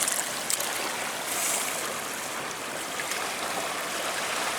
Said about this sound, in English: let me just give this a little rinse